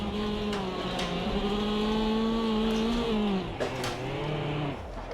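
A slightly underpowered race car engine in the Automobilista 2 sim racing game drones loud and close. Its revs rise and dip as it bogs down a little, with a steady tonal whine throughout.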